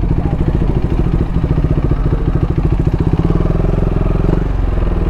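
A TR390 motorcycle engine idles and revs steadily nearby with a dense, pulsing rumble while the bike is parked inside a lakeside cafe resort. No voices are heard.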